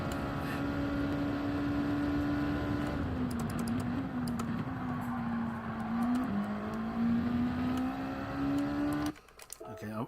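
A loud car engine drones steadily in Gran Turismo 7 during a hilly, twisty time trial, its pitch dipping and climbing through corners, with keyboard clatter and a person talking over it.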